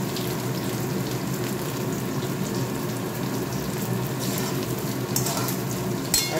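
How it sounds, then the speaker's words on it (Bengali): Paneer cubes frying in ghee in a pan, being browned further, give a steady, close sizzle and crackle that holds evenly throughout with no talking. "আর একটু লাল লাল করে ভাজি।"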